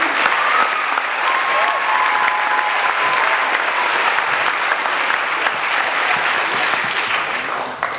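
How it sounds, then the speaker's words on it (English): Steady, loud audience applause fills a pageant hall, a dense wash of clapping sustained without a break from start to finish, with no voices rising above it. "deserves a round of applause for his job"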